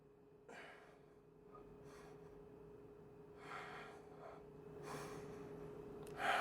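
Slow, deep breaths during a yoga flow session, a few soft airy inhales and exhales spaced several seconds apart over a faint steady hum, close but quiet, with no speech.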